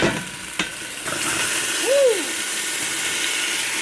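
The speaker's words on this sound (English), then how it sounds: "It's about to go down when you hear that sizzle though." Steady broadband sizzle of onion and bell pepper frying in a pot over medium-low heat, with a couple of sharp clinks early on and a brief squeaky tone midway.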